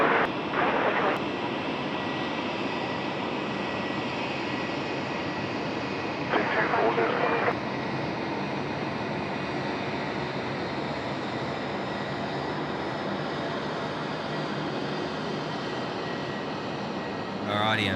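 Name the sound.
airplane landing at Sydney Airport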